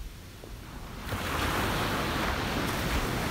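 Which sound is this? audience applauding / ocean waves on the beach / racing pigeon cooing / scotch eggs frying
ocean waves on the beach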